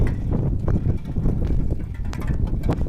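Strong wind in a vegetable garden buffets the microphone in a steady, heavy low rumble with gusty surges and no talking.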